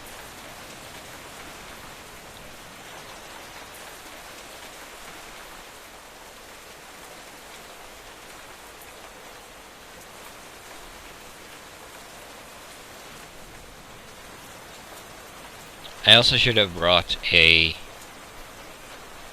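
Minecraft rain falls as a soft, constant hiss throughout, staying low and even, before a voice briefly talks over it near the end.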